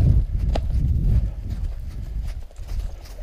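A horse with possible Lyme disease canters nearby, producing a rhythmic series of dull hoofbeats on soft ground with a low rumbling tone throughout.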